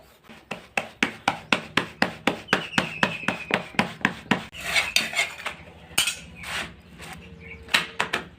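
Millet flatbread dough is patted by hand on a wooden board in a quick, even rhythm of soft slaps, close up, and the pats slow and grow irregular toward the end.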